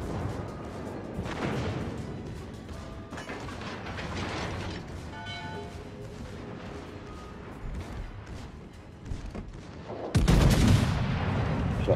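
Naval gunfire in World of Warships: Legends, with steady mechanical battle noise and scattered cannon reports throughout, then a sudden loud close salvo near the end that stays heavy and rumbling.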